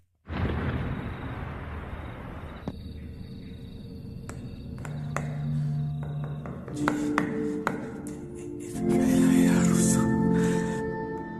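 Prisoners in a strict cell block knock on walls to pass messages, producing scattered sharp taps in irregular clusters over a low droning background with sustained tonal layers.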